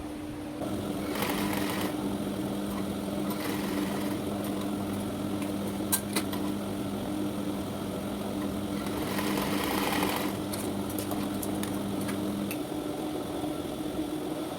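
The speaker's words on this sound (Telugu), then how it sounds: "ఇది లోపలికి మంచి కుట్టుకోవాలి ఈ లైనింగ్ వేసుకొని" A sewing machine runs steadily and close by, stitching the lining into a boat-neck, princess-cut blouse. Its fast mechanical whir carries through with brief pauses and clicks, and no one speaks.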